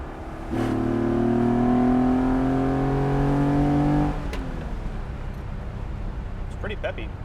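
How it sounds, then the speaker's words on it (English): A Citroën SM's multi-carburetor engine revs hard with a rising, harmonic drone for several seconds, then drops to a low idle rumble. "It's pretty cool to hear all the carburetors."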